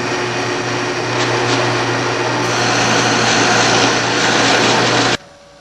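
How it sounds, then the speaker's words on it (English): A drill press fitted with a very large bit, set up for cutting an entry hole in a scroll saw candy dish, runs with a steady loud motor whine and hum for about five seconds, then cuts off abruptly. "we're over here at the drill press, and you can see I've chucked up a very large drill bit."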